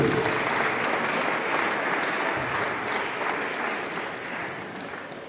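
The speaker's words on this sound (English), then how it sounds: "Can you give them all a round of applause, please?" Sustained applause from an audience of students and delegates at a school champions' programme in Goa, a steady dense wash of clapping holding loud for over five seconds and easing slightly near the end.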